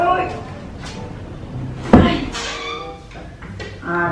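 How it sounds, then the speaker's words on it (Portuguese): In a children's funny story, a heavy box is set on the floor and a door is opened: a single solid clunk midway, surrounded by a voice talking. "vou precisar colocar essa caixa no chão pra eu conseguir abrir essa porta"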